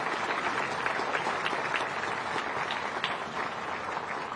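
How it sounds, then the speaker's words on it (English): Applause from an audience at a small business of the year awards ceremony fills the room as a dense, even roll of many hands clapping, heard from a slight distance with no speech over it. "Let's give everyone a big round of applause again."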